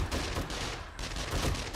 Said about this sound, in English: I'm just going to keep my turret going